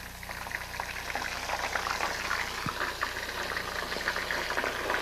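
Shrimp cook in hot oil in a small pot, a steady, dense bubbling and crackling boil that holds close and even throughout with no talk.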